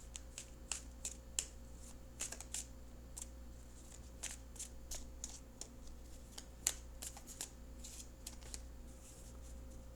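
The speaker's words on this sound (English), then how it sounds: "I'm going to shuffle for a few more seconds" Steady riffling and flicking of tarot cards being shuffled, many quick crisp clicks over a constant low hum, close and fairly quiet.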